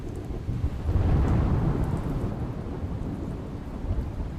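Heavy monsoon rain in Gujarat pours steadily while a deep, rolling thunder rumble swells early and fades slowly, loud and close, with no voices.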